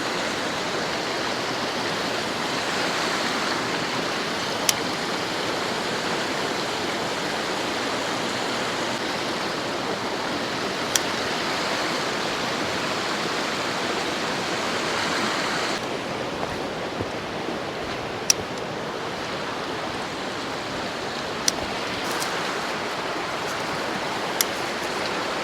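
A mountain creek on a trout-fishing trip rushes and burbles in a steady, full wash of flowing water, holding constant throughout and thinning slightly in the last third, with no voices.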